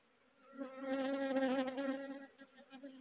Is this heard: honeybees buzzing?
yes